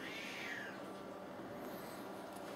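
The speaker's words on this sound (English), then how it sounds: "I must have the camera on if you're meowing." A domestic cat meows indoors in a kitchen, one drawn-out, falling cry near the start, close and fairly clear over a steady background hum.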